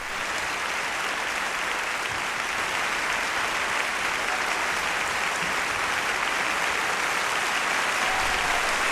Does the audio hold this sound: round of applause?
yes